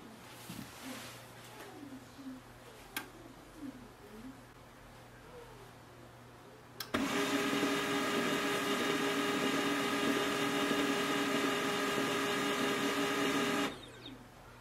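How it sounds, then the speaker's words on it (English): An HP LaserJet M110we laser printer powering back on, quiet room with faint bird chirps before a sudden loud steady mechanical whirr with tonal hum starts midway and runs several seconds before cutting off. "The printer will switch off and switch on itself."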